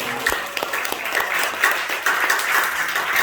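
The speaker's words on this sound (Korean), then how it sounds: "박수 한번 보내세요" Congregation applause at a Korean church prayer gathering, a steady broadband patter of clapping holding fairly even for a few seconds, with faint voices mixed in.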